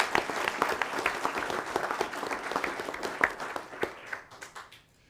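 Applause from a school board meeting audience for a group of students, dense and steady clapping at moderate distance that thins and fades out near the end.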